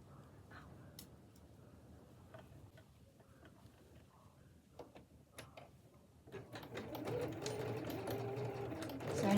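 A sewing machine stitches across the folded end of an apron tie, quiet and intermittent at first with soft mechanical ticks, then running steadily and louder toward the end.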